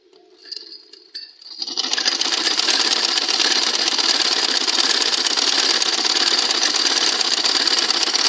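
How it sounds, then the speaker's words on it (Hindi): A sewing machine stitching a girl's dress starts with a few soft clicks and then settles into a loud, steady, continuous whirring run, close up with no talking. "इसके ऊपर एक सिलाई लगा देंगे"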